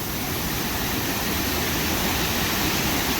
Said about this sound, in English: This is everything a mountain waterfall is supposed to be.